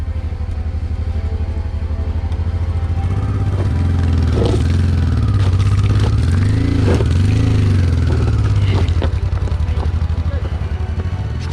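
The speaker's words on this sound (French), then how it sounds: "Je crois qu'on n'aura jamais autant poussé les motos." Motorcycles are pushed uphill on a tour of the Verdon. A steady, loud mechanical drone and rumble runs throughout with scraping and clattering on top, close by.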